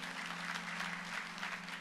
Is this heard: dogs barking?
no